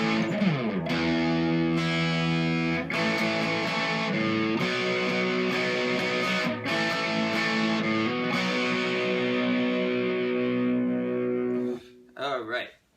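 Distorted electric guitar plays the chorus riff, dense sustained chords with steady rhythmic changes, loud and up close for about twelve seconds before cutting off.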